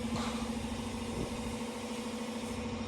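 A pickup truck engine idles nearby, a steady mid-low hum with a faint tonal drone and a couple of soft knocks, continuous for a few seconds with no talking over it.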